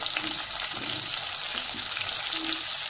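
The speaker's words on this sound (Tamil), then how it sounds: "வெங்காயம் நல்லா பொன்னிறமாக வதங்கணும்." Sliced onions, green chili and crushed garlic sauté in a pan for a samba rice dish, giving a steady, close hiss of frying that runs unbroken throughout with faint stirring underneath.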